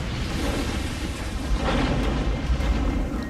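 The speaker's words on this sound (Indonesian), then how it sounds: "ledakan yang dahsyat" A huge explosion in a bomb-disposal scene from an action storyline, a dense, loud, sustained roaring blast with rumbling debris that swells slightly midway and stays heavy throughout, with no voices.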